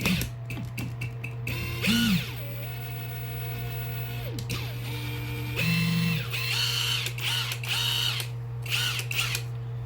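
A Hercules cordless impact driver runs in several short bursts, its whirring motor pitch sliding up and down between pauses, close and fairly loud with no talking.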